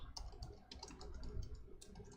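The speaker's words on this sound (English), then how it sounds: "My typing is amazing." Rapid, uneven keystrokes on a computer keyboard while filling in an Airtable social media content calendar, quiet and close with no talking.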